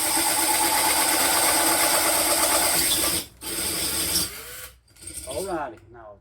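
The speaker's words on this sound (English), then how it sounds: "as this drill bit goes through, you got this little circle piece right here." Drill bit boring a hole through the glass bottom of a Mason jar, a loud steady grinding whine that cuts out abruptly, resumes briefly, then stops, followed by a few rattling clicks.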